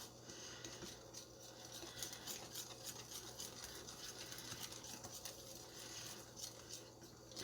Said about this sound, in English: just spend a little time whisking it in